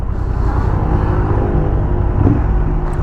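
A 2023 Honda Hornet 750 motorcycle engine drones loudly and continuously with a low rumble, rising briefly near the end, with no talking.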